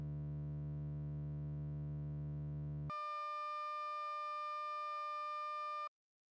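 Two steady electronic test tones recorded on tape, a low buzzy tone for about three seconds switching abruptly into a higher pure tone that holds for three more seconds before cutting off cleanly.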